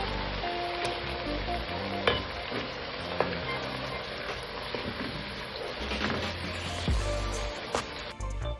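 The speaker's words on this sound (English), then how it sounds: "we'll leave it to sizzle for about a minute" Beef and momoni (salted fermented fish) sizzle steadily in hot oil for a Fante stew, with garlic and ginger added, a dense continuous crackle with occasional sharper pops, close and fairly loud, no talking.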